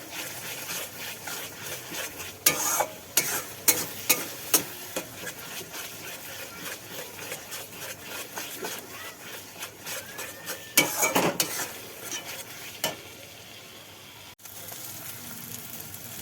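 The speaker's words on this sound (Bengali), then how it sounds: "হলুদটা দিয়ে আর একটু কষা হবে" Spices with turmeric are stir-fried in a pan: a soft constant sizzle under scraping and scattered clinks of a spoon against the metal, close and moderate in level, with no talk.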